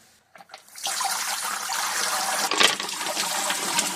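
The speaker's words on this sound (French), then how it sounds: "Je rince tout le temps comme il faut." Running water rinsing large tiger eye stones from a 15-pound rock tumbler barrel, starting after a few brief clicks and becoming a steady splashing gush close by, with no talking.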